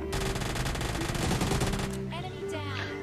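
Uzi gunfire in the video game PUBG Lite rattles out as a rapid, loud automatic burst lasting over a second, followed by quieter game effects and tonal sounds.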